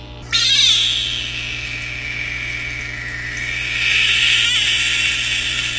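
A frog letting out a loud, sustained, shrill croaking cry that swells and wavers for several seconds, close and alone without talking.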